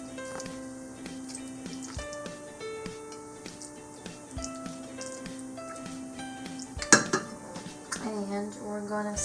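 Lime-cooked food being served onto dishes: soft clinks and scrapes of cutlery against plates, a few sharper knocks near the end, under a quiet background.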